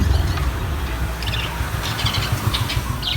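Pet lovebirds chirp during feeding time, a few short bright calls scattered over a steady low rumble of background noise, fairly faint and with no one talking.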